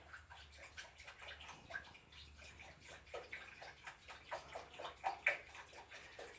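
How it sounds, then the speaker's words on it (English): Reduced-salt chicken broth pours gently into a pan around chicken breasts for a one-pot lemon pepper chicken and brown rice dish, a soft, faint, steady splashing and trickling with light gurgles. "I'm pouring the chicken broth gently into the pan"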